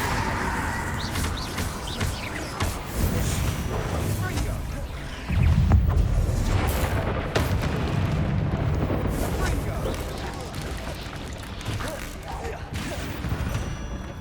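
Spell explosions from the video game Hogwarts Legacy, a continuous barrage of booming blasts and crackling impacts with a heavy surge midway, loud and dense under a voice calling out spells.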